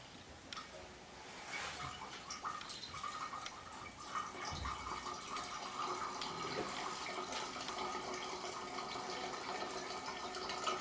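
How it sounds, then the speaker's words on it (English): Residual fuel, diesel mixed into gasoline, draining out of a Coleman generator, a steady trickling, splashing liquid flow that continues for the whole stretch with small drips and a faint tick, heard close and alone. "So we'll drain out the residual fuel."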